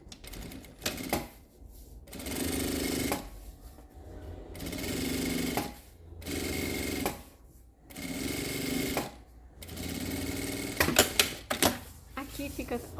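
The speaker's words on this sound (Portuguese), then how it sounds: "É só passar uma costurinha reta, simples." A sewing machine stitches a straight seam on a fabric laptop case in several rapid whirring bursts separated by short pauses, with some clicks and handling noise toward the end.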